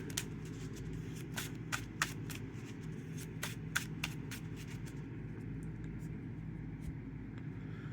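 Quick bursts of a Marvel Champions card deck being riffled and bridged, crisp and close, repeated several times over a steady low engine hum.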